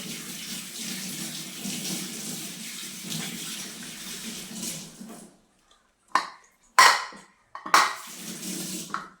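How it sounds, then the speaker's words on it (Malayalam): Onions are washed under a running kitchen tap. Water pours steadily for about five seconds, then stops; after a short silence come a few sharp clinks and splashes, close by. "സവാളൊക്കെ നന്നായിട്ട് കഴുകി വെച്ചിട്ട് അരിയാനാണ്"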